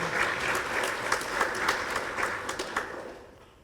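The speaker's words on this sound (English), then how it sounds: "another round of applause for our chief guest" A crowd at a golden jubilee celebration applauds the chief guest, dense clapping that holds steady, then thins and fades toward the end.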